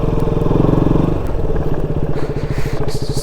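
Motorcycles ride an off-road dirt track on a rainy-season trip toward a waterfall. A loud, close engine drone throbs continuously and shifts to a choppier, pulsing beat partway through, with some scraping and clatter over it.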